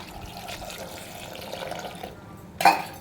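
Water runs and splashes steadily into a pressure cooker of green gram (mung beans), with a louder slosh near the end.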